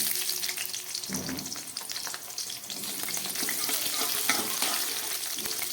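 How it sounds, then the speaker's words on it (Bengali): Chopped capsicum frying in hot oil for vegetarian chilli paneer, a loud continuous sizzle with stirring and scraping, close up and with no talking. "এই তেলের মধ্যে আমি দিয়ে দিচ্ছি কেটে রাখা ক্যাপসিকাম"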